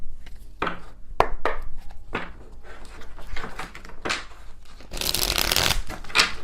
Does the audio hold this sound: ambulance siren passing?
no